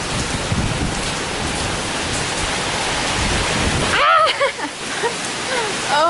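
Torrential rain pours down in Singapore as a dense, loud roar of heavy drops, easing abruptly near the end as brief voice-like sounds and shifting noise take over.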